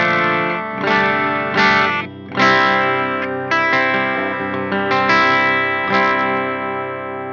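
Electric guitar played through the clean channel of a VHT Pittbull 100 amplifier, strummed chords ringing out in a slow sequence of loud, sustained strikes with no talking.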